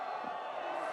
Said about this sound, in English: I just love hearing the stoke from the crowd